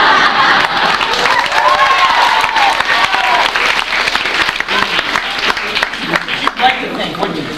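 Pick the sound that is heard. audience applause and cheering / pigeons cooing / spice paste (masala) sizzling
audience applause and cheering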